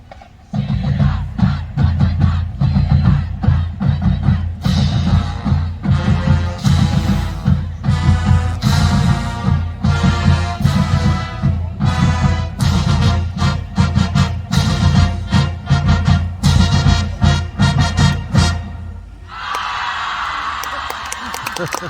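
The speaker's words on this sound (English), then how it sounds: "Here's the original Mars." A large high school marching band blasts a loud, driving rendition of Holst's Mars with pounding drums and brass, while a crowd yells and cheers throughout, ending in a burst of shouting.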